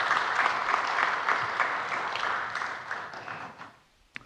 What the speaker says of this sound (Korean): 우리 격려의 박수 한번 부탁드리겠습니다.